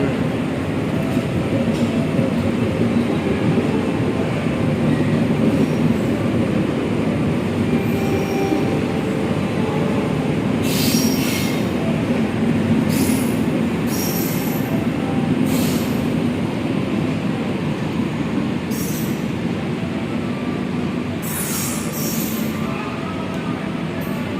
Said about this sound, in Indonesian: Sampai jumpa kereta api Argo Semeru, semoga sehat selalu, selamat sampai tujuan